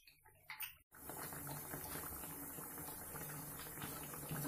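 Vada shallow-frying in a pan on a medium-low flame until golden brown, a faint, even sizzle and bubbling hiss that runs steadily after a brief quiet start.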